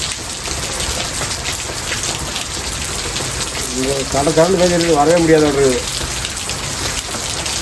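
Heavy rain pours steadily in a dense, loud hiss of drops on surfaces that goes on throughout, with a person talking briefly over it in the middle.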